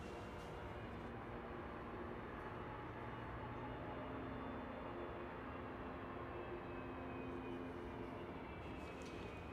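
Distant jet engines of an Antonov An-124 cargo plane at Ted Stevens Anchorage International airport give a faint, continuous low roar with a thin high whine, steady and unbroken.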